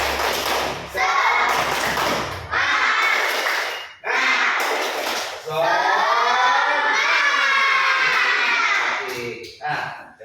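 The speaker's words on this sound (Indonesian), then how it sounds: "Tepuk semangat." Elementary schoolchildren in a classroom chant and clap a rhythmic tepuk semangat routine together, loud bursts of young voices and claps in several phrases separated by brief pauses.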